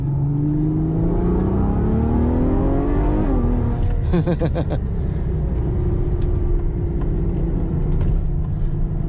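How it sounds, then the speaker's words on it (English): A Ferrari FF accelerates hard in second gear, its engine note climbing steadily in pitch, dipping at a shift, then pulling again with a loud, close roar and no talk over it. "This engine just pulls."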